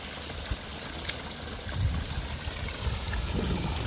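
Water from a 600 to 900 foot farm borewell gushes under pressure straight into a stream, a steady close rushing and trickling wash with no voices.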